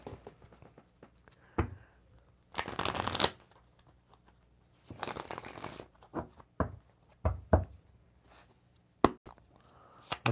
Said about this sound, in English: Let's give these a bit of a shuffle here.